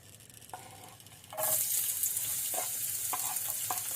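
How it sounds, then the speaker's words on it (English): Onion and mushrooms hit hot olive oil in a pan, a sudden burst of sizzling that then holds steady, with light scraping stirs and a few taps. "we have to fry the onion and then we add the mushrooms"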